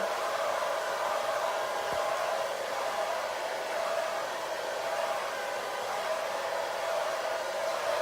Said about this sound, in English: the blow dryer and the diffuser are doing the work